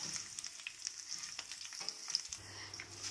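Coriander, curry leaves and coconut roast gently in oil over a low flame, a faint soft sizzle broken by small stirring scrapes, quiet and close.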